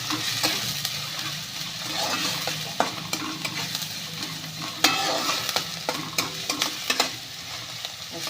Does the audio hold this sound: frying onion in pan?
yes